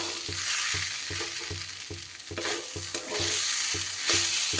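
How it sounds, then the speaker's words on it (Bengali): Rice and lentils fry with spices in a pan for khichuri on lowered gas, with a constant sizzle and regular scraping strokes of a spoon stirring the mix at a steady rhythm. "গ্যাসটা কমিয়ে নিয়ে আমি এবার সুন্দর করে মশলার সাথে চাল আর ডাল এইভাবে একটু কষিয়ে নেব।"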